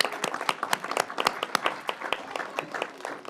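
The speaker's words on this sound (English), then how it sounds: "Can you guys clap so everybody knows you're here?" A second grade class from an elementary school claps together at a city council meeting, a brief burst of scattered, uneven applause from a small group of children.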